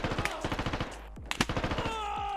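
Rapid automatic gunfire from the military shooter game Squad, a steady run of close, punchy bursts with a brief pause midway, then more shots and a lingering ringing tone.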